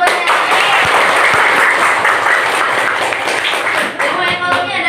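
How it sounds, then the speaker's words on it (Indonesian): Students in a high-school economics class applaud a classmate, a dense burst of many hands clapping that holds steady for several seconds before tapering, close and lively, with a voice mixed in. "Tepuk tangan buat temannya."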